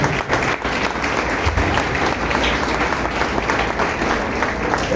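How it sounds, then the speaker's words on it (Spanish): A church congregation applauds during a sermon, a steady, dense wash of many hands clapping throughout at a moderate distance, with a faint voice now and then underneath. "Denle un aplauso al Señor."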